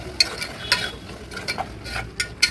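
Sliced tomatoes for tomato rice sauté in a pan with a low sizzle, broken by sharp, irregular scrapes and clicks of stirring with no voices.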